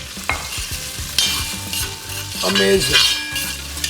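Whole spices fry in hot oil in a pan for a chicken curry, with a loud close sizzle and frequent clinks and scrapes of a stirring utensil. A voice briefly speaks one word.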